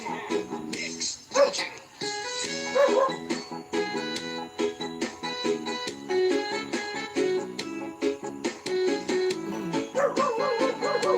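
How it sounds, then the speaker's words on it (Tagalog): A dog barks and yips in short repeated bursts, fairly close, alongside steady background music and occasional voices. "Ay nga yung aso namin dito."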